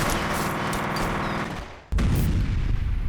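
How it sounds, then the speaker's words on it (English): A grenade blast in the video game F.E.A.R.: sustained gunfire clatters, then a brief hush is broken by a sudden loud explosion, followed by a low rumbling roar. "What if I throw a grenade here?"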